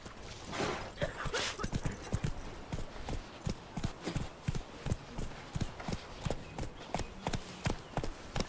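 Roach, a horse in The Witcher 3 video game, gallops with a steady, close run of hoofbeats that keeps a rhythmic clip-clop throughout.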